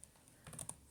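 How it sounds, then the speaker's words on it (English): Someone types a password on a computer keyboard: a short run of light, quick key clicks with uneven spacing, close and fairly quiet, with no speech. "trying to type my password into my computer and I keep typing in the wrong number"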